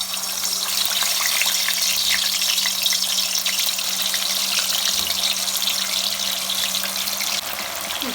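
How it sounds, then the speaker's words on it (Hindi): Chicken pieces frying in hot oil in a home kitchen: a steady, dense hiss and sizzle, fairly close and continuous, with a faint low hum underneath. "ऑयल हमारा अच्छा सा गर्म हो गया। अब हम इसके अंदर चिकन पीसेस डालते हैं।"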